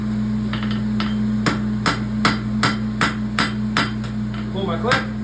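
A farrier's hammer strikes a horseshoe on a pony roadster in a run of about a dozen sharp, ringing metallic blows at a steady rhythm, close and loud over a constant low electrical hum.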